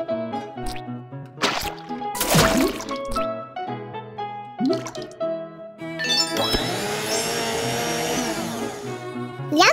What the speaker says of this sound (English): Put 3 pieces of lemon into the blender.